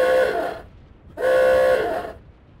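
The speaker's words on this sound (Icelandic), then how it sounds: "Og svo bætti ég við nýjum tóni í flautuna." A horn fitted with a newly added tone sounds two clear sustained blasts, each about half a second long, separated by a short pause, loud and close.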